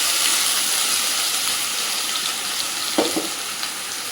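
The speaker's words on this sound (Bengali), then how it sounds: "এই যে বেটে রাখা পেঁয়াজটা আমি তেলের মধ্যে দিয়ে দেব।" Ground onion paste frying in hot oil for masala paneer, a broad, steady close hiss of sizzling that eases slightly, with a couple of brief soft clatters near the end.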